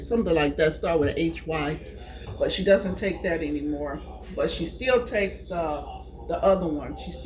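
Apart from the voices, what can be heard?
No distinct noise like a dog, phone or traffic.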